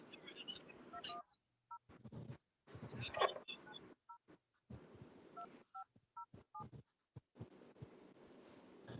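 A telephone call is dialed on a phone at a poetry announcement night: a quick run of separate keypad tones, some in close pairs, sounds between bursts of background noise and some talk, fairly quiet overall.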